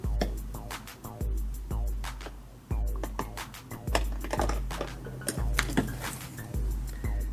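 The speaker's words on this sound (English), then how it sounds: "This hook tool worked really well to pull this plastic piece out." A hook tool pries a plastic piece out from behind a Honda car door handle, giving a run of close, sharp plastic clicks and scrapes at an irregular rhythm.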